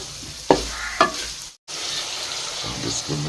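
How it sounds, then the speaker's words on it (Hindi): Food frying and being stirred in a pan, with a steady background sizzle and two sharp scraping stirs close up near the start, then a brief dropout before the sizzle resumes. "माशाल्लाह अब अच्छी तरह भून गया है।"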